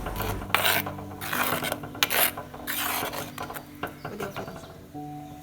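Mango pachadi mixture with sugar and salt being stirred by hand in a bowl, with rasping, scraping strokes that come in uneven bursts at close range and no talking.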